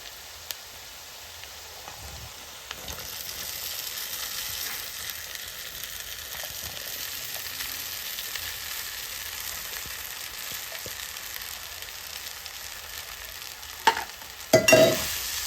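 Poha tipped into a pan with turmeric and stirred while frying, a steady soft sizzle with light scraping throughout and a couple of louder clatters near the end.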